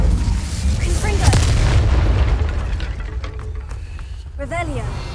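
A Confringo explosive spell goes off in Hogwarts Legacy, a loud booming fiery blast with a sharp crack near the start and rumbling bursts after, while game effects and voices sound throughout.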